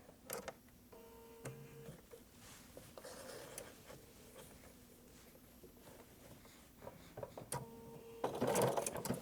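A sewing machine stitches a scrappy fabric coffee mat with a soft, fairly faint whirring and mechanical ticking, nearby, ending in a louder burst of movement and rustle.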